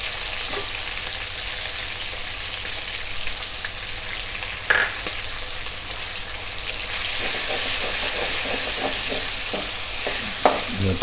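Ginger garlic paste frying in a pan for chicken karahi, a steady close sizzle with brief stirring clatters and scrapes throughout.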